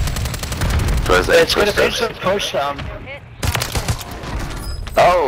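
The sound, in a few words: sniper rifle shots in Warzone 3 video game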